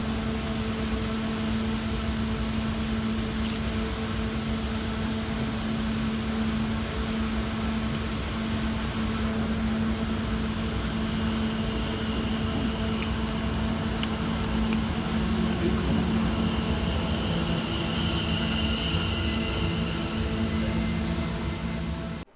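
London Overground electric train pulling into Seven Sisters station, a steady loud hum and drone from traction motors holding throughout with faint high squeals and a rising rumble near the end, no voices.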